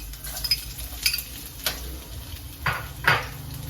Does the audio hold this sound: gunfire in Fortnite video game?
no